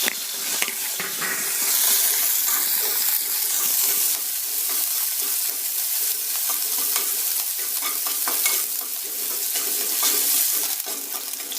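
Chopped onion frying in a pan for sambar: a continuous loud sizzle and hiss with scraping stirring strokes, close and steady without a break.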